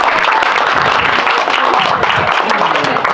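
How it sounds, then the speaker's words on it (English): Dense, steady applause from a family reunion gathering fills the whole stretch, loud and close, with voices mixed into the clapping. "Give them a round of applause"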